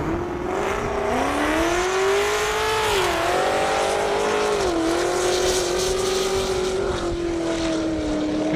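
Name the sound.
drag racing vehicles accelerating on an airport airstrip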